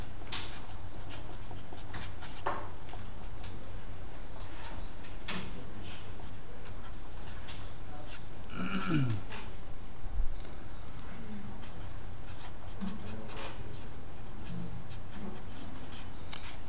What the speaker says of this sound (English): it's a long writing process because there's a lot of stuff to put down here